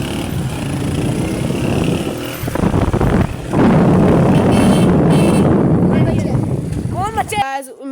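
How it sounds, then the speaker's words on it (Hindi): A Honda CG125 motorcycle engine drones steadily while riding in fourth gear, loud and close with wind buffeting, fading toward a brief pause near the end. "हमारी बाइक की आवाज़"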